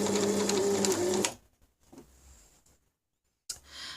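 A domestic sewing machine stitching a buttonhole runs in a fast, steady whir for just over a second, then stops; a few faint handling clicks follow and a brief burst of stitching restarts near the end.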